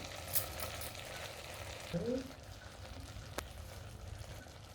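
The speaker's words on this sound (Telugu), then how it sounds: "బియ్యం వేసుకున్న తర్వాత ఒకసారి కలుపుకోవాలి ఫ్రెండ్స్. అది బాగా ఫ్రై అవ్వాలి బియ్యం కూడా." Rice for vegetable khichdi is stirred and fried in a pan, giving a quiet, soft sizzle with a few light scraping strokes of the spoon around the middle.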